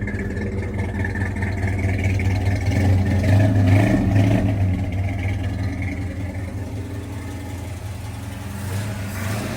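A car engine running rich idles and revs steadily up close, a loud continuous mid-pitched rumble that swells briefly around the middle with no speech over it.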